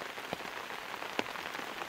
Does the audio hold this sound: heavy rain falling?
yes